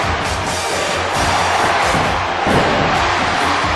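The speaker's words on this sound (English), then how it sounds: "Chant going on from this capacity crowd" A capacity crowd in a wrestling arena in the video game WWE 2014 keeps up a loud, steady roar and chant, with rhythmic swells and a brief surge near the end.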